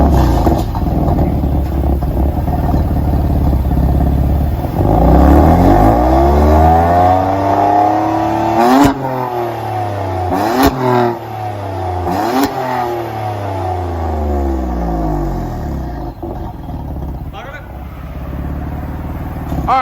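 A 2016 BMW M4 with a twin-turbo 3.0L six and a Black Widow Angry House Wife muffler starts up in eco mode, its engine rumbling steadily with a few rising revs in the middle. Talk is heard over it.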